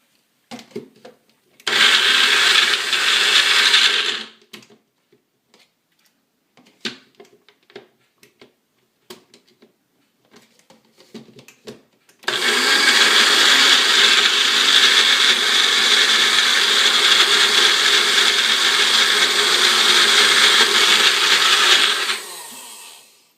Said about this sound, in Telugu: ఇప్పుడు ఇది ఇందులో వేసేసిన ఉల్లిపాయలు టమాటాలు అన్నీ దీన్ని మిక్సీ చేసేసుకోవాలి.